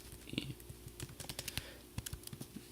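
Close, quiet typing on a computer keyboard, with irregular runs of light clicking keystrokes and brief pauses, no voices.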